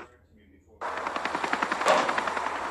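Video game gunfire from Henry Stickmin: after a near-silent start, a rapid burst of automatic shots rattles loudly for about two seconds.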